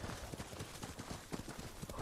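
Rapid, rhythmic clip-clop of horse hooves galloping in Ghost of Tsushima, a steady close pounding gait across the whole stretch with a faint voice in the background.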